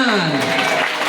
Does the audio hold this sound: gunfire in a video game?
no